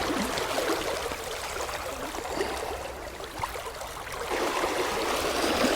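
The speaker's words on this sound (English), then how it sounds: "you can tell how it's thundering through here just by the sound of it on my waders" Fast river water rushing and thundering against an angler's waders while nymph fly fishing in late summer, a dense continuous close wash with gurgling swells and no voices.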